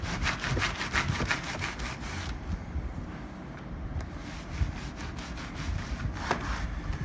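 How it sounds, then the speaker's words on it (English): A microfiber towel rubs and mops across carpet in rhythmic, close scrubbing strokes, followed by a quieter stretch of softer wiping. "I'll go through with my microfiber towel and just kind of mop it up"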